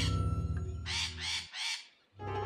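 Three harsh, raspy caws in quick succession from a crow among deer in London, fairly close, following a low rumbling sound, with another rough call starting at the end.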